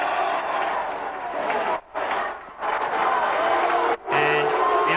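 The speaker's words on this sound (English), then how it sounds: "The crowd don't like it." A 1995 Australian football crowd at a Central versus Port match roaring in disapproval of an umpire's call, a broad sustained stadium din with brief dips, under a commentator's voice.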